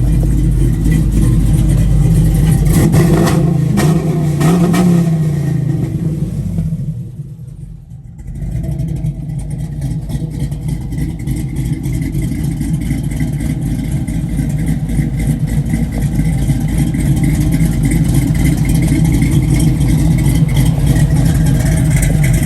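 A 1971 Chevrolet Camaro V8 revs loud and close, its deep rumble swelling, dropping briefly to a quieter idle, then returning to a steady, aggressive roar with no talking.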